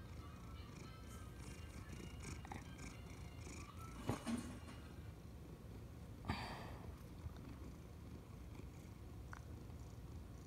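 A lazy cat purrs quietly and steadily up close, a low continuous rumble with a couple of brief sniffs or shuffles breaking in.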